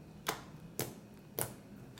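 Slime pressed by hand gives three sharp, separate clicks spaced about half a second apart, close and fairly quiet, with no talk.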